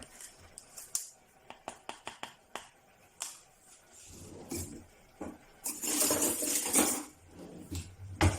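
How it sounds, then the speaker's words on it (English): Peanut burger batter being mixed in a bowl: a run of light clinks and taps of a utensil against the bowl, then a denser, louder stretch of scraping and stirring, close by with no talk. "So I'll mix everything together"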